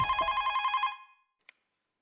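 An old-style telephone bell rings in a fast, trilling burst close by, then cuts off and decays, followed by a single short click as the receiver is picked up.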